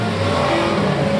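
A drift car with its rotary engine swapped for a V8 revs with a loud, sustained, throaty drone, held steady and close throughout.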